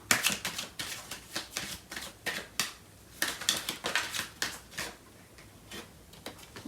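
Tarot cards are shuffled in the hands, a run of crisp riffling bursts in an irregular rhythm, close and fairly quiet, with no voices.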